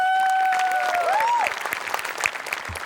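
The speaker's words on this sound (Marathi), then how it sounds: "त्यामुळे या ओरिजिनॅलिटीसाठी आपल्या टीमसाठी एकदा टाळ्या वाजल्या" Studio audience of a Marathi comedy show applauding the performing team, clapping steadily and loudly, partly overlapped by a sustained tone in the first half.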